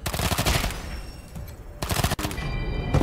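Bursts of automatic gunfire crackle through a Wasteland 3 turn-based firefight as the gunman's shots all miss, two dense volleys separated by a brief lull and a sharp break.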